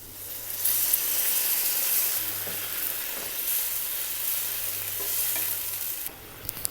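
Water poured into a pan of frying brinjal sets off a loud, steady sizzle and hiss with faint stirring scrapes, continuing without talk before dropping off near the end.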